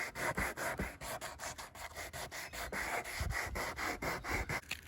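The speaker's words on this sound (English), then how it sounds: "So we finished sanding, sanded both sides" Close, rhythmic scratchy strokes of hand sanding on a wooden boat, quick back-and-forth rubs repeating steadily with no talking.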